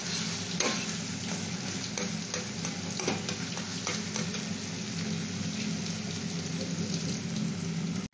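Ground chili and coriander powder frying in a pan while being stirred, a soft steady sizzle with scraping strokes and a few sharper clinks, alone and without talk.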